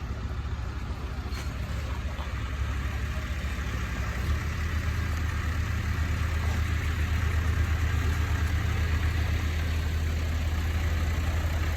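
The engine of a small David Brown tractor idles steadily at a farm during hay baling, a low, continuous rumble with a faint rise partway through. It plays alone with no talk.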